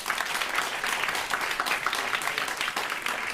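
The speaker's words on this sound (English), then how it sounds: "Give yourselves a round of applause." Sustained audience applause closing an agriculture and climate resilience event, a dense, steady wash of many hands clapping at moderate level with no clear gaps.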